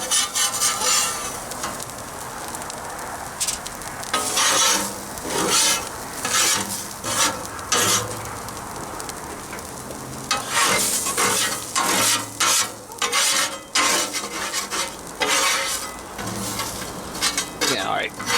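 A metal spatula scrapes burnt onion off a smash-burger griddle in repeated harsh, rasping strokes, loud and close, with brief pauses between passes and a faint sizzle underneath.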